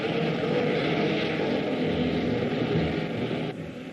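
A propeller aircraft drones steadily overhead as it turns in to land, a loud continuous engine hum that drops off slightly near the end.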